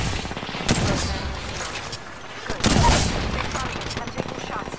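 Rapid gunfire bursts from Apex Legends while playing Mirage, with dense overlapping shots and two louder heavy volleys standing out, close and loud over a constant game background.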